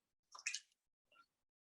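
Water splashes onto a wet paper painting surface in a quick wet dab followed by a second smaller drip-like touch, close and soft against silence.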